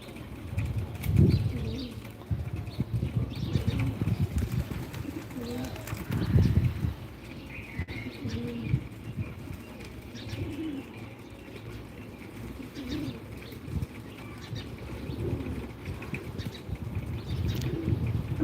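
Pigeons gathered to feed on scattered mung beans and peanut grains, with soft cooing and bursts of wing flapping over a steady murmur of outdoor background noise, no speech.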